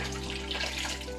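Tap water runs in a steady, close stream during rinsing, a continuous splashing wash with no breaks and no talking.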